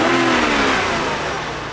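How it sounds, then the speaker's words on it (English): A car engine fitted with a STAG gas installation revs up, its mid-pitched note climbing with the RPM, loud and close, then easing slightly as the rise settles. "Rising the RPM."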